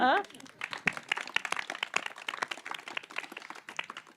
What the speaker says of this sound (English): To the whole community, a big applause, please.